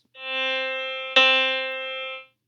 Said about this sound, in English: There's a reference note, which is a C. It sounds like this.